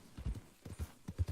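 Horse hooves clip-clop in Red Dead Redemption 2, a quiet, uneven series of soft thuds in quick pairs as the horse moves over open land near a cliff.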